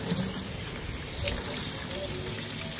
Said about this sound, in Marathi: ती स्वच्छ नळाखाली 5 ते 6 वेळा पाण्याने धुवून घ्यायची